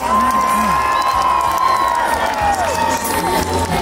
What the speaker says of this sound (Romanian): Să aplaudați mai tare la ea. Aplauză furtunoasă